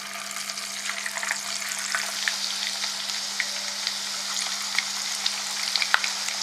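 Chicken 65 pieces deep frying in hot oil, a second batch going in: a steady, dense sizzle and crackle with scattered pops, close and continuous, with a faint low electrical hum underneath and no voices.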